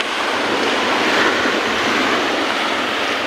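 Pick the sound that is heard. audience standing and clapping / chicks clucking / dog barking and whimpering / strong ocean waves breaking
strong ocean waves breaking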